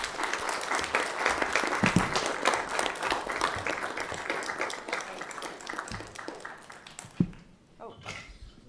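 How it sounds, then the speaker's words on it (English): Council chamber audience at an Albuquerque city council meeting claps in a steady round of applause for a proclamation, fading out near the end with a sharp tap and faint murmuring afterward. "We're going to give you a round of applause"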